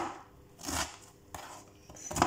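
A knife chops pineapple pieces on a cutting board for a ginger and lemon juice, a few sharp close knocks spaced irregularly with light scraping between them, no speech.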